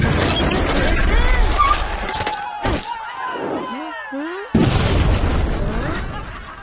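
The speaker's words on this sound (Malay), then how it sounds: "Ada meriam buluh." Deep booming blasts from a bamboo cannon punctuate a noisy outdoor scene at a Ramadan bazaar in an animated cartoon, with loud bursts and echoing pops around people's voices.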